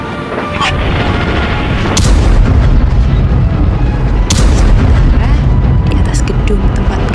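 Gunfire in a colonial-era Surabaya battle drama, a dense, loud barrage of booming shots and blasts over a constant rumbling roar, with speech mixed in.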